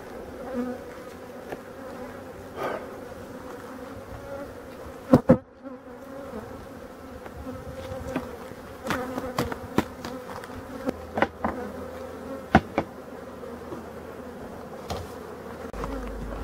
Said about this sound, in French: je sens que les abeilles s'énervent un peu autour